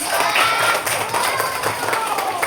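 Primary schoolchildren in a grade 4 class clapping together, a dense, loud burst of applause lasting the whole moment with voices mixed in.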